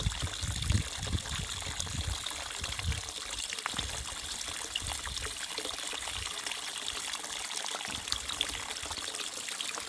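Water trickles and pours off the edge of a tipped outdoor surface built from used materials, making a steady, fairly loud splashing stream with a few heavier gushes early on.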